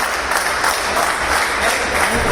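Audience applause fills the room steadily at a Holi comedy poetry gathering in Banaras, dense clapping welcoming a poet to the stage, loud and continuous with little variation.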